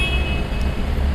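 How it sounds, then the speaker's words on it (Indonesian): Horn of a 2022 Mitsubishi Canter Euro 4 truck sounding in one sustained honk, close and fairly loud over a low engine hum. "Klakson."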